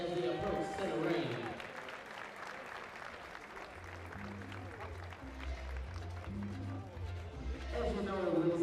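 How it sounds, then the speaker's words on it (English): Crowd applause at an amateur boxing bout as the boxers approach center ring, a broad steady clapping wash that carries through the whole stretch, with a voice over a PA at the start and end. "Let's give our boxers first a big round of applause as they approach center ring."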